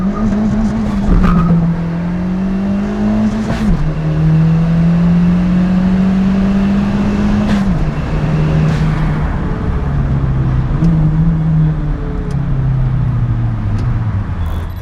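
A restomodded Suzuki Zen 1300 Turbo street car drives hard and accelerates, its engine note rising and dropping through gear changes over a steady, loud drone, with no talking.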